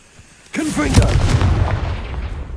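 A Confringo fire spell from Hogwarts Legacy goes off in a sudden loud blast after a quiet moment, followed by a booming, crackling tail that slowly fades.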